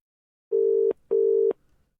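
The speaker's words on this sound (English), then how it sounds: "Ringing." Telephone ringback tone on an outgoing call: two steady electronic rings, each about 0.4 seconds with a short gap between, clear and alone with no talk.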